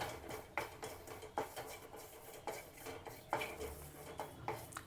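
Curry leaves dry-roasting in a pan with no oil for red chutney, with a steady patter of scraping and stirring knocks from a utensil against the metal pan, recurring every second or so, close and moderately quiet.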